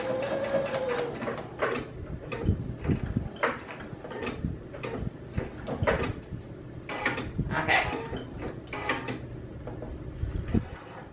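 A sewing machine stitches a thrifted denim jacket, running in short close mechanical bursts of rapid whirring and clatter separated by brief pauses as a back stitch and fixed stitch are sewn.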